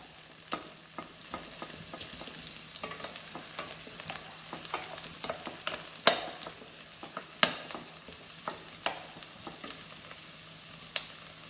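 Appalam gravy cooking in hot oil, stirred with a spoon, gives a steady soft sizzle with scattered scraping clicks and taps of the utensil against the pan, moderately close and with no voices.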